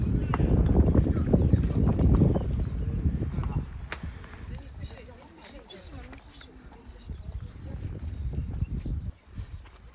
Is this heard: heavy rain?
no